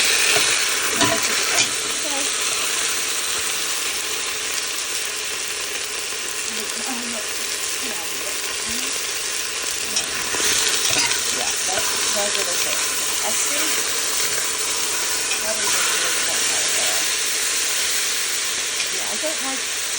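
Sausages frying and browning in oil in a home kitchen make a steady, close sizzle for the full stretch, with occasional scrapes and clicks of stirring and faint talk in the background.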